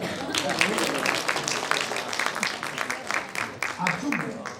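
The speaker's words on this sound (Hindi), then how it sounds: "ताली बजा लो" An audience at an international research conference in Patna claps in a dense, sustained burst of applause, with a speaker's voice over it.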